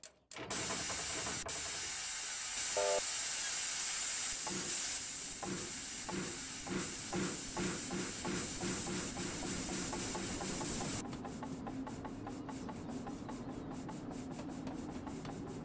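New Zealand JA Class steam locomotive in a train simulator game pulling away, a steady steam hiss overlaid with rhythmic chuffs that gradually quicken as it gains speed, close and continuous.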